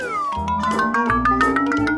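A kitten meows loudly and close as it is given milk, letting out a drawn-out, wavering cry over about two seconds with no talking.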